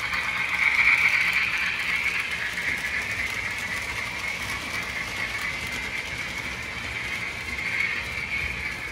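A Lionel TMCC model switcher locomotive in Reading Railroad livery runs steadily under Bluetooth control, giving off a continuous close whirring motor hum with light rail rumble that holds level throughout, no voices present.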